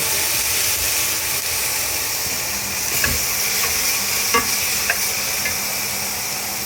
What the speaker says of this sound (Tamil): வெங்காயத்துக்கு நல்லா நெய் கொஞ்சம் ஊற்றலாங்க